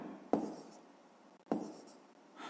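A pen writes an answer on paper during a fifth-grade maths exercise, with two short, close scratching strokes separated by a pause, each starting with a sharp tap and trailing off quietly.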